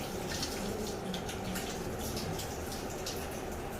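Water runs steadily from a tap while scrubbed hands and arms are rinsed, a constant close splashing hiss with small irregular patters, and no voices.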